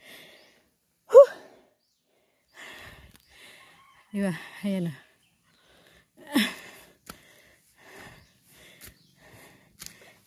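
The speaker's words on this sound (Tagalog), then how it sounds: "Ako'y hinihingal talaga." Heavy, breathy panting and sighing from a person out of breath after walking up a steep hillside shortcut, scattered gasps and exhales close by, with a few short spoken words between breaths.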